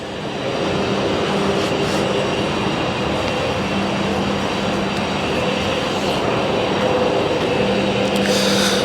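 Trams pass in the distance on a quiet early Saturday morning in Sydney, a steady low rumble with faint squeals that holds throughout.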